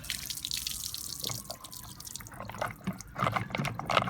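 Water trickling and dripping from the drain filter of a Zanussi Electrolux ZWF1432S washing machine outdoors, quiet uneven splashes and drips with a few louder spatters near the end.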